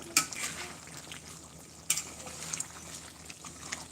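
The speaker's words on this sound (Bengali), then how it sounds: "গরম মশলাটা ভালো করে মিশিয়ে দিই" Garam masala is stirred into duck meat cooking in a pot, giving faint sizzling with two sharp scraping clatters of the utensil and a few lighter taps.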